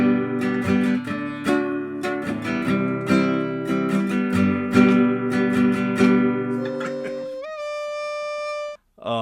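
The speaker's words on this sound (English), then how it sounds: "So the first time you play chords on this guitar, it's probably going to sound like this." Muffled, dull-toned chords strummed on a fretless guitar follow one another rhythmically, close and moderately loud. The playing ends with a single sliding, gliding note.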